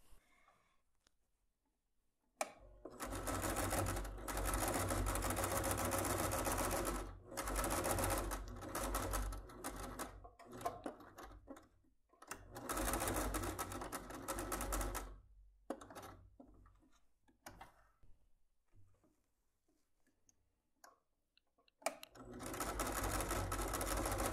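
A sewing machine stitches along marked lines on a fabric wallet in several rapid mechanical bursts of a few seconds each, separated by quiet pauses, close and clear with no talk.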